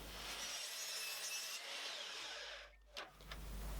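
A wooden board is hand-sawn during a woodworking build of a wine bottle and glass holder, a quiet continuous rasping stroke that briefly pauses near the end before resuming.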